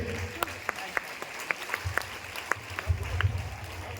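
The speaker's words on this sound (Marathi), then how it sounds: "जोरदार टाळ्या पाहिजे." Scattered clapping from a small group at a high school event, a steady patter of hands with some voices underneath.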